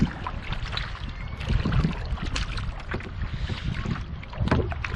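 A canoe or kayak paddled on Lake Ontario in the evening with a new paddle gives steady watery splashes and swishes under continuous wind noise, close to the microphone.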